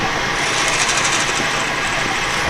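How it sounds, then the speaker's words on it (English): Continuous loud, gritty drilling through steel on a shop-made spanner wrench for keyless chucks, a steady grinding whine that runs unbroken for the whole stretch, close up with no talk. "my real plan is to try to drill it all the way through, straight through."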